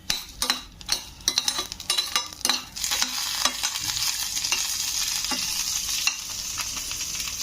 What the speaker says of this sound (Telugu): మిరపకాయలు ఒక్కటి ఫ్రై చేసుకుంటే చాలు